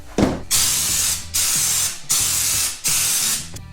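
Raptor liner bed coating is sprayed onto objects in four loud, close bursts of hissing spray, each lasting under a second and split by short pauses with faint mechanical clicks.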